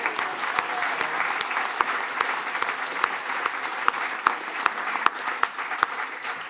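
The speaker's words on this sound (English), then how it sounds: "How about a clap anyway?" Applause at a university graduation ceremony in Wellington, a steady crowd of clapping hands with sharper individual claps standing out near and far throughout, no talking over it.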